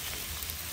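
Vegetables frying in a pan for homemade vegetable chowmein, a steady close sizzle with no breaks over a very short stretch.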